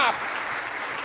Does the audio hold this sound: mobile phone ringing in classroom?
no